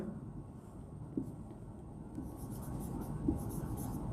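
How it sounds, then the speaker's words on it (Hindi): Chalk or marker scratching across a classroom board while a sentence is written, a steady soft scrawl with a few louder taps, heard alone over a low room hum. "एक सेंटेंस में आपको और लिखता हूं"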